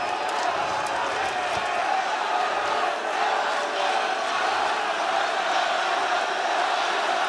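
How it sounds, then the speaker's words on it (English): Esports arena crowd at a Counter-Strike grand final, a dense continuous roar of cheering and shouting, steady and fairly loud throughout. "You can hear every cheer."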